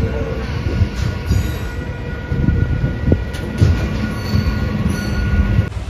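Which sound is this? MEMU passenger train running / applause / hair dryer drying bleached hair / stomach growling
MEMU passenger train running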